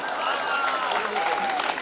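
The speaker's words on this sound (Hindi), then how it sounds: "वकील साहब आप ताली बजा रहे हो" An audience claps and cheers at a Hindi comedy poetry gathering under a tent pavilion, with steady applause filling the space while a voice carries over it.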